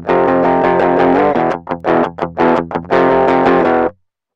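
Electric guitar through an 808-style overdrive plugin with tone maxed, loud and saturated: sustained distorted chords, then a run of short choppy palm-muted stabs, then held chords again before ending abruptly into silence.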